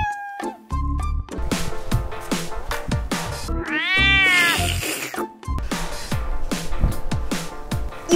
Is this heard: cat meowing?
yes